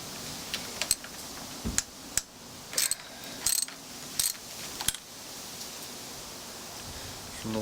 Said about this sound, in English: I'm gonna go ahead and remove just these front bolts here on the clamp.